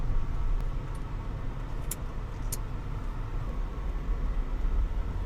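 Car accelerating during spirited highway driving, heard from inside as a steady, moderately loud engine and road roar with a couple of faint high ticks, no talk.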